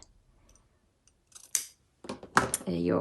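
Fabric scissors snip through sewing-machine cover binding in a few quick, sharp close cuts, followed by someone speaking.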